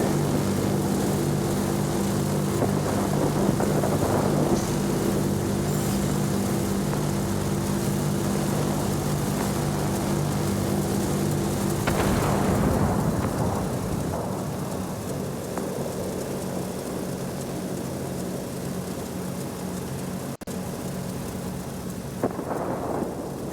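Rolling thunder rumbles through steady rain in a World of Warplanes air battle, with a droning propeller aircraft engine humming beneath; the storm swells loudly, eases after midway and one sharp crack breaks late.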